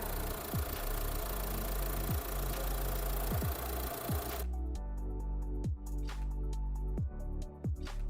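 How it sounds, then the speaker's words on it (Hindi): A 2-litre diesel engine in a Tata Safari runs steadily with a loud, coarse broadband drone and faint periodic knocks; about halfway through, the high-pitched noise drops away, leaving a lower, muffled engine hum. "बट ये डीजल इंजन थोड़ी ज़्यादा नॉइजी है एंड उतनी ज़्यादा रिफाइंड नहीं है"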